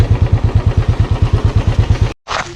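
A motorcycle engine idling close by while being parked near a bridge on the way to a waterfall, a loud rhythmic chugging pulse, then cutting out abruptly followed by a short clatter.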